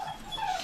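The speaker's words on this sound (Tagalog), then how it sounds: "Kulit nito yung dalawa ng aso." Two dogs in a small student dormitory room in the United Kingdom let out a brief, close whimpering whine, high and drawn out, lasting under a second.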